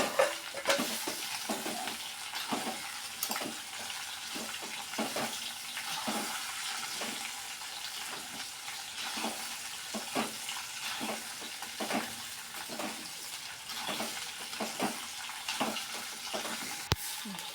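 Carrot, tomato and green chili stirred in a hot pan for avial with drumstick and dried fish, giving a continuous wet sizzle with steady rhythmic scraping strokes, close and fairly loud, with no voices.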